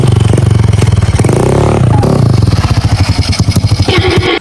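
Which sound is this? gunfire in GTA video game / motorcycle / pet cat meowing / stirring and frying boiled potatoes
motorcycle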